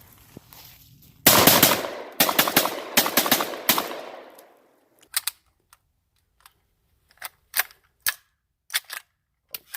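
A UTAS XTR 12 semi-automatic shotgun fires a rapid burst of about five loud, sharp blasts close by, then falls quiet before a string of fainter, evenly spaced single clicks or pops.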